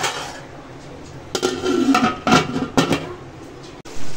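Metal lid set down on a pot of chicken biryani frying on the stove, giving a few clanks and clinks against a steady cooking hiss.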